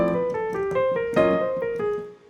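Modern jazz piano lick with left-hand chords landing on the third triplet of each group, a steady lilting rhythm of bright right-hand notes punctuated by chordal accents, played solo and close.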